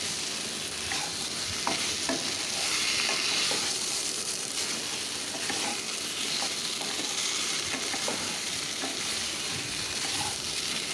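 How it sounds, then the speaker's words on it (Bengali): Fried vegetables are stir-fried with spice masala in a hot pan, giving a continuous close sizzle with frequent scraping stirs of a spatula, steady and fairly loud. "এবার সবজিগুলোর সাথেই মশলাটাকে কষিয়ে নিচ্ছি।"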